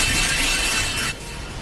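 In a Claymore anime fight scene, stones and windows shatter in a dense, loud burst of breaking and crumbling debris that cuts off abruptly partway through.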